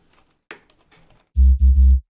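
A synthesized sub bass layer built from a sine wave with white noise, playing three loud, deep sustained notes back to back after a few faint scattered sounds.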